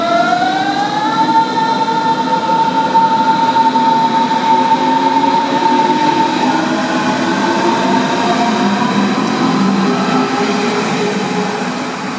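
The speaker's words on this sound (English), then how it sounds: "It's got a really nice sounding VF drive." A Berlin S-Bahn electric commuter train whines as it accelerates, its variable-frequency motor drive producing rising and shifting musical tones over a steady rumble of wheels.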